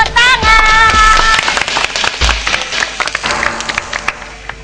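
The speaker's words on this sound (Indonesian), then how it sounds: "Tepuk tangan, tepuk tangan." An audience at a Lesbumi Temanggung performance claps, with loud scattered hand claps over ringing tones and voices nearby, the clapping thinning out toward the end.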